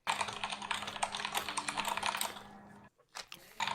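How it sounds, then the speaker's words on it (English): Fast, busy clatter of typing on a computer keyboard, dense keystrokes that pause briefly near the end before a few more taps, fairly quiet and close. "Oh god, all this typing."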